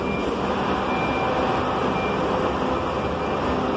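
At a busy bus station, vehicles idle and pass in a dense, steady rumble of engines and traffic, with a faint thin tone riding over the constant noise.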